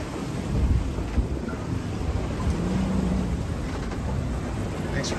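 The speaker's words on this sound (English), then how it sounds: "No shortage of wind on this trip." Strong wind of about 18 knots on a sailboat making a multi-day offshore passage at sea, a steady loud roar of wind buffeting the microphone with rushing water beneath, continuous throughout without talk.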